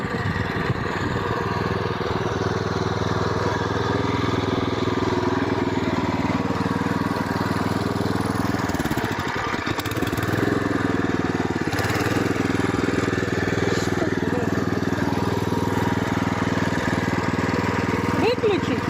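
A walk-behind tractor engine with a hiller attachment runs continuously and close by, a steady, loud putter that holds throughout while people talk over it.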